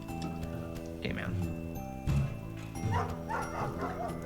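A dog barks in the video game Night in the Woods, a few short yips and woofs rising over low game music and ticking, fairly quiet, with someone talking over it.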